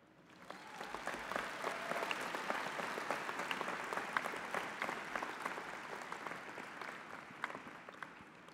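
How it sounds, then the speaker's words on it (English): A commencement audience honors the arts and humanities chairpersons seated on stage with sustained applause, a dense, somewhat distant wash of many hands with a few sharper claps standing out, continuing throughout. "And they deserve a clap."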